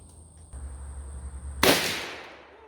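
A single loud Ruger Super Redhawk revolver shot cracks after a low hum and decays over about a second, heard alone at chronograph testing.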